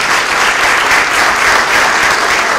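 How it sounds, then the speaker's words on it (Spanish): A steady, dense wash of audience applause at a lecture on the politics of knowledge, loud and even from start to finish with no talking over it. "Un aplauso para el hacker"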